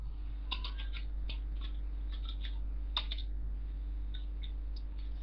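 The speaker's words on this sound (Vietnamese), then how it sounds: "nhập lệnh trực tiếp từ bàn phím" Typing a command on a computer keyboard in a CAD drawing program, a quick series of light key clicks in short irregular clusters, close and faint over a low steady hum, no voices.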